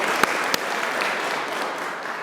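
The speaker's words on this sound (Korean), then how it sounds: "이 정도 박수로 괜찮을까요? 조금만 더 크게." Congregation applause fills a church on Easter Sunday, a steady dense wash of clapping at even loudness from start to finish, with a couple of sharper individual claps standing out near the beginning.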